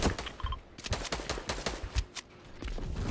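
Rapid bursts of gunfire from the Fortnite video game, close and loud, firing in quick, uneven volleys with short gaps between rattling shots.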